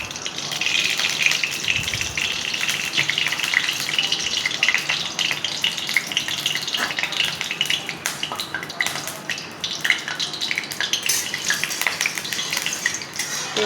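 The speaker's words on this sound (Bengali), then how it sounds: "কড়াইয়ে প্রথমে আমি সর্ষের তেল দিয়ে দিলাম।" Mustard oil heating in a kadai (wok) crackles and sizzles loudly and continuously, with occasional light clinks of metal utensils and no talking.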